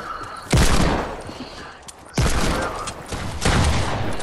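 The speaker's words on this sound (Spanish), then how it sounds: "Son tiros, son tiros, son tiros." Loud bursts of rapid gunfire in Fortnite, three distinct volleys each followed by a decaying rumble, close and intense.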